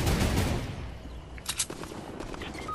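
Rapid automatic gunfire rattles at the start of a Fortnite match, then tapers into a few sharper, more distant shots with brief gaps between them.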